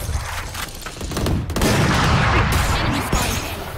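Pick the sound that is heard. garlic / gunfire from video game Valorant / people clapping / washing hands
gunfire from video game Valorant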